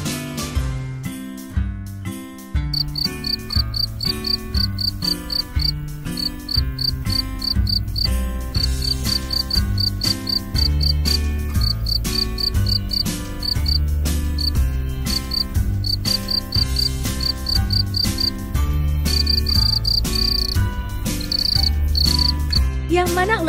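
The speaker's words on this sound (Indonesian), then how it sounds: "Yang mana jangkrik?" Rapid, high-pitched cricket chirps pulse in steady trains over a loud rhythmic music bed with a thumping beat.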